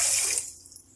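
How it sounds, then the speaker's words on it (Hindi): A glass of water is poured over a cup of sugar for cake syrup: a brief, bright close splash that trails off within a second. "1 गिलास हमने पानी का ऐड किया है।"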